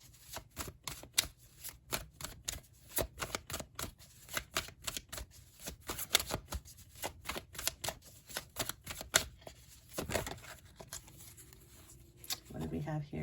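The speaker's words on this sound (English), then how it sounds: "Let's see if I can just get a few more cards here." Tarot cards being shuffled and drawn, with rapid papery flicks and taps in a steady patter, close and clear, easing off near the end.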